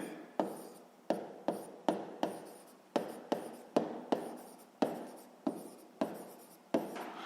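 Pen or chalk scratches across a surface in short repeated strokes, each starting with a tap and fading, about a dozen in a row, close and quiet, as formulas are written out during a sixth-grade math lesson.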